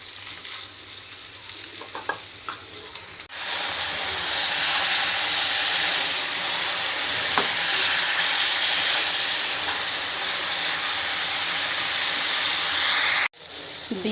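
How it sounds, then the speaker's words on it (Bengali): Pointed gourd peels frying in oil with shrimp, green chilli and onion give off a loud, steady, close sizzle for about ten seconds, with quieter kitchen sounds before it and a brief break near the end. "এই যে পটলের খোসাগুলো চিংড়ি মাছ, কাঁচামরিচ আর পেঁয়াজ দিয়ে তেল দিয়ে হালকা করে ভেজে নিচ্ছি।"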